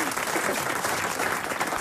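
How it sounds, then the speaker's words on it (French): Studio audience applauding a caller on a French radio comedy game show, a dense burst of steady clapping filling the whole moment without speech. "Ah, le public vous acclame déjà."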